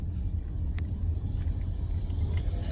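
A car being driven, a steady low road and engine rumble with faint cabin noise, close and continuous throughout with no clear talk.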